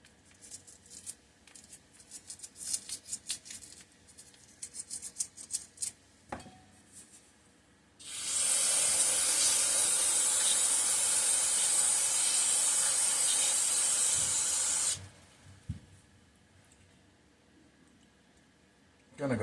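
Carb cleaner sprays in one steady, loud hissing burst lasting about seven seconds onto the outside of a filthy carburetor from a vintage Toro Proline Commercial Recycler 2 mower, preceded and followed by quieter handling clatter.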